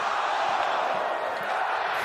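Stadium crowd at a Purdue football game, a broad steady roar of cheering throughout, with an announcer talking over it.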